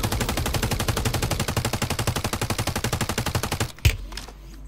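Rapid automatic gunfire in Call of Duty: Warzone, a fast steady stream of loud shots lasting several seconds before stopping with a final heavier bang.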